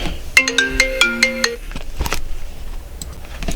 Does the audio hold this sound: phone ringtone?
yes